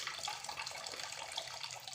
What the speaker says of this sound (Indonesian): kita melakukan pencucian buah anggrek yang sudah matang pada air mengalir